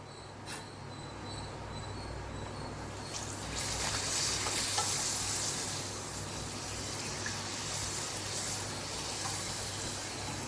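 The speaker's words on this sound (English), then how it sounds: "So shall we fry it in the oil?" Pieces of appalam papad frying in hot oil, a steady close sizzle and crackle that swells louder partway through and holds, with a low background hum and no talking.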